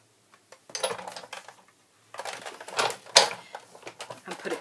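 A cutting plate set onto a Big Shot die-cutting machine while making a Stampin' Up! mini treat bag, giving a few close clacks and scrapes of plastic on plastic, with a sharp knock near the end.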